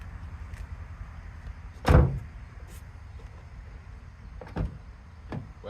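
A 2007-2011 Toyota Yaris door with Cusco door stabilizers fitted, swung shut with one solid thud, followed by softer latch clicks and knocks nearby against a quiet background.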